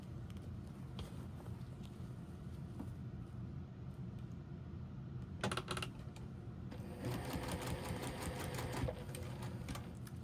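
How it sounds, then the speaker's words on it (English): A sewing machine stitches quilt pieces for a postage-stamp scrap quilt, a steady close mechanical whir running throughout, growing busier and brighter in the last few seconds with no talking. "I am going to sew to the side of that line"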